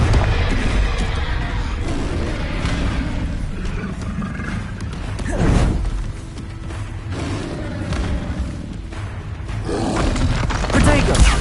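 Confringo fire spell blasts in the Hogwarts Legacy video game, rumbling booms and roars layered over a continuous battle din, with one sharper blast near the middle, loud and dense throughout.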